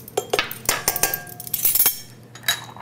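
Compacted brown sugar being tapped out of a measuring cup into a bowl in a home kitchen, giving a quick run of sharp, close clinks and knocks with short gaps between them.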